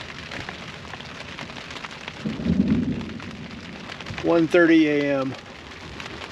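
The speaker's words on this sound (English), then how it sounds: "it hasn't stopped raining" Steady rain patters on a rooftop tent during a nighttime thunderstorm, with a soft low rumble of thunder midway; a person speaks briefly near the end.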